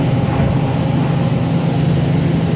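A 1998 Toyoda FA-450II horizontal machining center drilling, giving a steady, loud mechanical hum with a low droning tone that holds evenly throughout without breaks.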